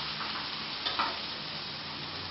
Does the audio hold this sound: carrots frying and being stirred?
yes